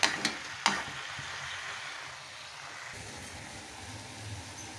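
Cauliflower stir-fries in a pan with a steady, soft sizzle. A few sharp clinks of a utensil sound near the start, then the hiss continues evenly without talk.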